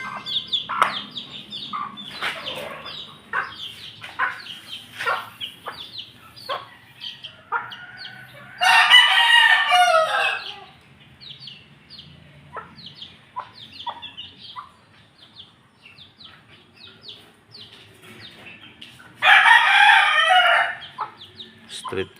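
Chickens cluck and chirp steadily at close range during feeding, with two loud bursts of rooster crowing standing out, one midway and one near the end.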